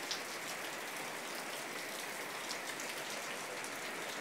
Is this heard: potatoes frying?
no